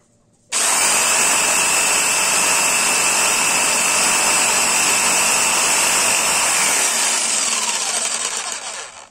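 A Bosch PST 650 jigsaw cuts through wood, its loud, steady high-pitched whine and rapid blade rattle running continuously for most of the stretch after an abrupt start, then tapering slightly at the end.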